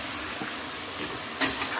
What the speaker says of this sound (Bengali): এবার নেড়ে দেবো ভালো করে।